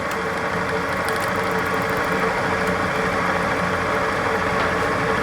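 A wood lathe spinning up toward about 1,000 RPM while turning a fatwood fire bowl, a steady loud motor drone with a broad whirring hum and faint rattling vibration throughout, no voices.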